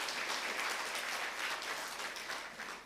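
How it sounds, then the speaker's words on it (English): An audience applauds the CEO, Mr. Firoz, at the EBS 2022 graduation ceremony, a steady wash of many hands clapping that stays level and fades slightly toward the end, with no voices over it. "Let's have a round of applause for Mr."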